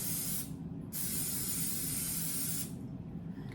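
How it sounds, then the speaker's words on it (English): Two long bursts of aerosol cooking spray hiss close up, broken by a short pause, with no talking. "I like to take my cooking spray and I like to spray my utensil with"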